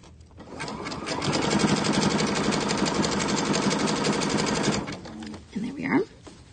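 Near a sewing machine stitches around a neckline in one fast, even burst of rhythmic mechanical chatter for about four seconds, then stops, followed by brief handling noise and a voice.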